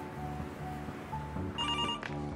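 A telephone rings with a steady, tonal electronic warble over a continuous low hum as an automated assistant calls a restaurant to make a reservation.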